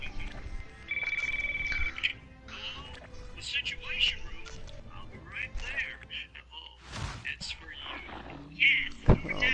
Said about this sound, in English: It's 3 a.m. and the phone's ringing in the White House.